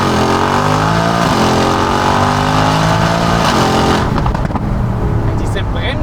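A Mercedes G-Class, billed as the loudest and fastest G-Class in the world, roars with a loud, sustained engine rev that climbs in pitch, then cuts off into rumbling and crackle, with voices talking over it.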